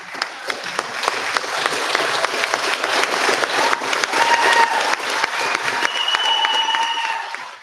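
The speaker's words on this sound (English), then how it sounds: "And if everybody could just stand and clap as loud as you can for John Keller and Greg Sherwin." A board of education meeting audience stands and applauds, a sustained wash of loud clapping filling the room with some faint voices and whistles mixed in toward the end.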